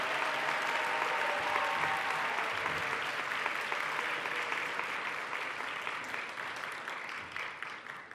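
Sustained applause from a congregation fills a university chapel service at a Methodist theological seminary, dense and even, slowly thinning toward the end.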